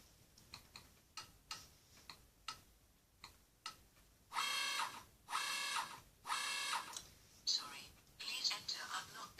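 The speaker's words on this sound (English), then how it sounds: "Yeah, it sends an alarm." Steady rhythmic electronic beeping from a toy sonic screwdriver universal remote control, a short tick-like pattern that turns into louder, longer buzzing alarm tones repeating several times.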